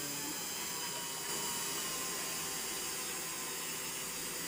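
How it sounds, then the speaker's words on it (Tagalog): A Taylor's electric rotary cloth cutter slices through velvet fabric, making a continuous close, buzzing motor whine with a rough cutting rasp, steady throughout. "Ihanda ang Taylor's electric cloth cutter at simulan na ang pagtatabas."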